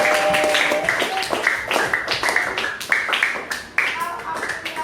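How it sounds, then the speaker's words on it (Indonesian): Children in a classroom clap their hands together in a rhythmic burst, loud and close, with voices chanting along throughout. "Oke, baik, tepuk tangan."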